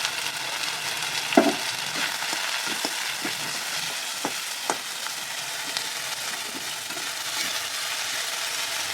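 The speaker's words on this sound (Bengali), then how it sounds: "গ্যাসের ফ্লেম একটু হাই করে সামান্য একটু ভেজে নেব" Chopped capsicum and onion fry with ginger-garlic paste in a pan over a high gas flame, giving a steady, moderate sizzle. Occasional clacks and scrapes of a spatula stirring break through, with no talking.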